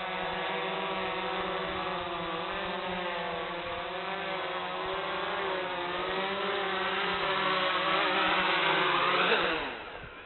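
Electric motors of an XK Detect X380 quadcopter whine steadily and close for most of the clip, with wavering harmonic tones, then spin down and fade quickly at the very end.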